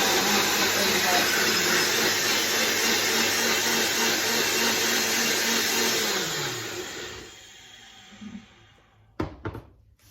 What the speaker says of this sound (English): Here I have a mixture of pepper and onion in this blender. So I'm going to blend it now